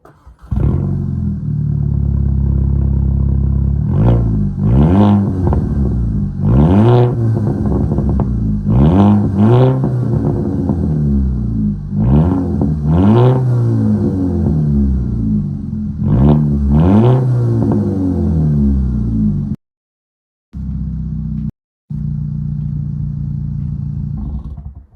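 VW GLI with its muffler cut off, loud close exhaust blipped repeatedly: a rough idle broken by sharp revs that rise and fall, with a few brief drops to silence near the end.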